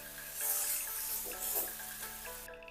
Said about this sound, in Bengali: এবার খুব ভালো করে এটাকে 3 থেকে 4 মিনিট সময় নিয়ে ভেজে নেব।